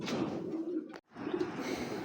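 Giribaz pigeons make a steady low cooing murmur, broken by a brief silent gap midway, then resuming at a similar level.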